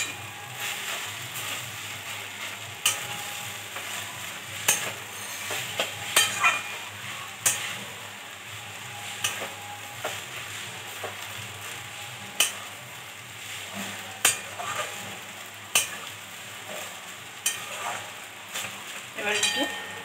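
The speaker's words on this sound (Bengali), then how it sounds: "আমি অল্প একটু নারকেল কোরানো দিয়ে আবার নেড়ে চেড়ে নিচ্ছি" Papaya curry with grated coconut is stirred in a pan, a spoon scraping and clicking in scattered strokes over a soft steady sizzle of frying, close and fairly quiet with no one talking.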